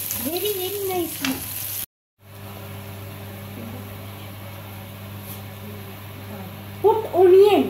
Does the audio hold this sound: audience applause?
no